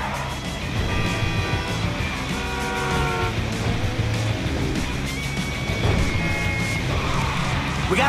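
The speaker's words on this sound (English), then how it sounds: "It's only a battery car." Car driving in Grand Theft Auto V, an electric battery car, with a steady continuous road rumble and scattered higher tonal whines and game sounds throughout, no talk.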